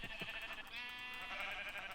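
A sheep in the Minecraft Infinity Evolved modpack gives one sustained, wavering bleat that holds steady and close for most of the moment, preceded by a couple of brief soft clicks, with no voices.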